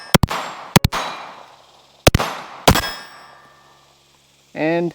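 A Stealth Arms Platypus Glock-style pistol fires its first shots: four sharp, loud reports in uneven pairs, each with a short ringing tail, then a brief spoken word at the end.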